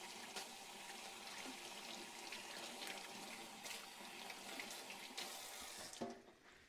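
Tap water runs steadily into a kitchen sink while hands are washed, a continuous quiet splashing hiss with small shifts as the hands move under the stream.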